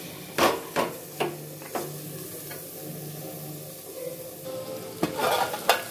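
Vegetables frying in oil in a pan give a steady sizzle, broken by several sharp scrapes and knocks of a spoon stirring them, clustered at the start and again near the end.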